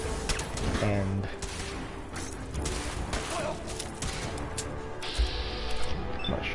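Gunfire from the video game Fallout 4, a burst of shots mixed with mechanical clanks and impacts, with someone talking over the game audio throughout.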